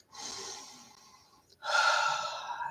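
Two slow, deep breaths close to the mic, a soft airy inhale followed by a fuller, louder exhale, with no talking.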